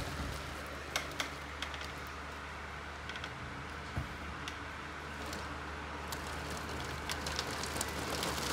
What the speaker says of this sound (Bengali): আর বাহিরে বাতাস আর বৃষ্টি হচ্ছে